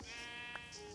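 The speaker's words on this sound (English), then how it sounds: "Ah, sheep." A sheep in Minecraft gives a single, close, wavering bleat lasting about a second, clear and alone against a soft game background.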